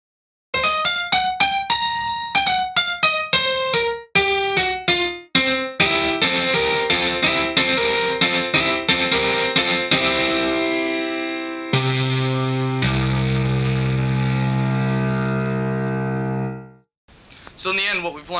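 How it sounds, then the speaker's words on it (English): Steinway D piano sample fed through distortion and a Fender Twin Reverb amp model in Guitar Rig: a run of quick descending notes, then dense, sustained distorted chords that ring out and decay, ending in a short burst. "now we're going to run it through a twin reverb model in Guitar Rig"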